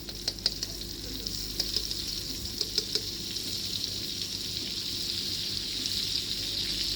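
Pelanta spice frying in hot oil while cooking samosa filling gives a steady, close sizzling hiss, with a few sharp pops and crackles early on that settle into an even fry.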